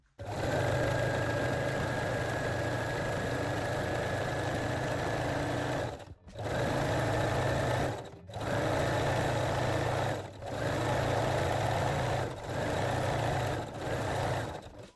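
A sewing machine stitches fold-over elastic onto the waistline of high-waist panties in steady, loud runs of whirring, stopping briefly about five times before starting again, with no talk.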